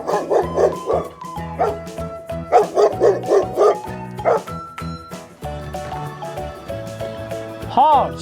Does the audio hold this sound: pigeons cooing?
no